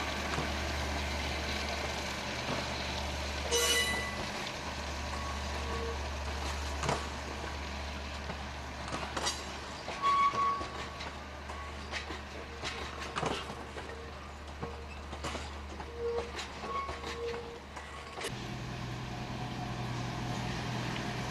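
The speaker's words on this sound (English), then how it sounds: "It is seen here being hauled by Ribble Rail's Sentinel diesel locomotive and is about to cross the swing bridge" Ribble Rail's Sentinel diesel locomotive hauling tank wagons toward a swing bridge at a dock entrance, a low steady engine drone with scattered clanks and knocks over a long stretch, heard from a distance and rather faint.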